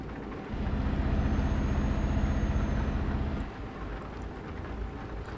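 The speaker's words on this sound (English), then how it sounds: "We do have some rain." Rain falls in the Euro Truck Simulator 2 game, a steady hiss over the low rumble of the truck's engine, which drops away partway through while the rain noise continues.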